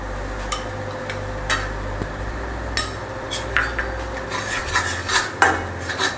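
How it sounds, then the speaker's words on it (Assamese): Wheat flour frying in ghee in a wok is stirred with a metal spoon, giving irregular scrapes and clinks against the pan over a low, steady background hum. "ঘিত আমি যি 2 চামুচ আটা লৈছিলোঁ সেই আটাখিনি ভাজি ল'ম।"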